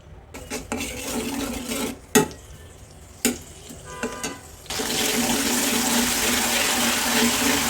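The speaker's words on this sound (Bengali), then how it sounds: "চিংড়িগুলো তেলের সাথে ভালো করে ভেজে নেব" Chopped prawns frying in hot oil while being stirred in a pan, a steady close sizzle broken by several sharp scraping knocks of the spatula, swelling into louder continuous frying over the last few seconds.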